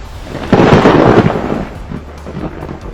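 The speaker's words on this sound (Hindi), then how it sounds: "बिजली कड़कने की आवाज कई बार सुनी होगी" A close, loud clap of thunder from a lightning strike during a night storm in Solan, Himachal Pradesh, a heavy rumbling burst that peaks sharply and then rolls away into a fading low grumble.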